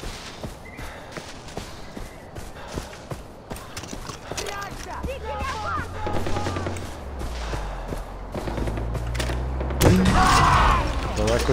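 Gunfire from the video game Far Cry 4 cracks out in scattered shots and bursts over a busy game soundscape of hoofbeats and rumbling, fairly loud and continuous.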